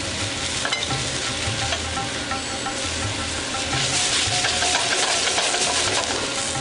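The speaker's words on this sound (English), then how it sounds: "we're going to add our raviolis as well, straight into the pan" Ravioli added straight into a hot pan with pork cheek braise, which gives a loud, steady sizzle and crackle alongside stirring, close up and continuous throughout without any talk.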